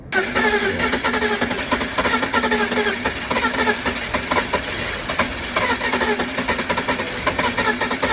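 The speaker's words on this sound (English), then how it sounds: "Thomas, let's crank it over." A BMW E46 that arrived dead cranks over on the starter after fuel-system work, a steady, rhythmic churning that runs continuously without catching, loud and close.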